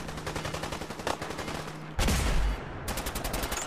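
Rapid bursts of gunfire from the video game Fallout 4, several quick rhythmic shots followed by a louder, heavier blast and another fast volley, with a faint steady hum beneath and no talking.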